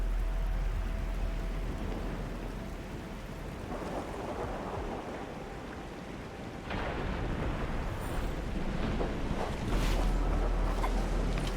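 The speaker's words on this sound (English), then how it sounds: "It's raining harder. I can't hear anything except for the rain." Heavy, steady rain pours in a stormy scene in the video game Arknights: Endfield, a dense, loud wash of drops that fills the whole clip with no voices.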